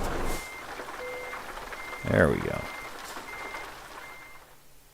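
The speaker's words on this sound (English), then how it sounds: "Yeah, beep, beep, beep." Truck reversing beeps in the Euro Truck Simulator 2 game, a steady repeating electronic tone heard at moderate level under a brief spoken remark, with a louder rumble of movement midway.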